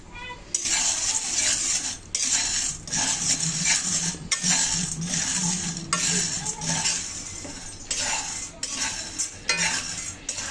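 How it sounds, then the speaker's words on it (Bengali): Gram dal fries in a hot kadai while a metal spatula stirs and scrapes it in repeated clattering strokes over a soft sizzle, close and fairly loud. "ডালগুলো দেখুন আমি একটু লালচে করে ভেজে নিচ্ছি"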